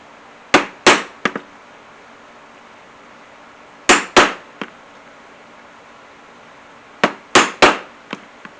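A punch being hammered to make stitching holes in 4 to 6 ounce leather for moccasins, with sharp, close strikes coming in three quick clusters of three or four blows, separated by short pauses.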